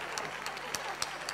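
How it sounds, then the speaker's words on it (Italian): A brief burst of crowd applause, with dense, even clapping that stays moderately loud through the short moment. "è un applauso alle canne questo?"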